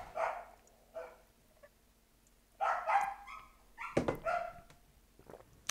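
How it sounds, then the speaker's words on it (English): A dog barks in several short bursts, some clustered and sharp, with whimpery yips between, fairly close while a Titanfall 2 game plays faintly underneath. "My dog is freaking out,"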